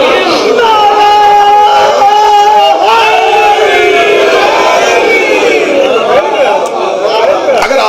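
A large crowd roars and shouts a religious slogan in unison at a Shia gathering in Pakistan, a dense wall of many voices that stays loud and sustained throughout.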